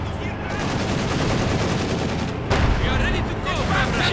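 A machine gun rattles in the World War II strategy game Company of Heroes 2. Loud, dense bursts of automatic fire and battle noise fill the whole stretch without a break.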